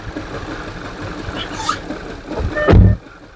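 A 2011 Audi Q5 with a cylinder misfire cranks and catches, its engine swelling into a rough, loud burst near the end after a stretch of quieter background noise.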